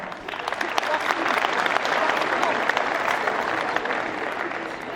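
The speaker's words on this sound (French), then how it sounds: "Applaudissez juste les hommes qui ont ramené leurs femmes" Audience applause at a stand-up comedy show, a dense, loud wave of clapping swelling within the first second and holding steady, with crowd murmur mixed in.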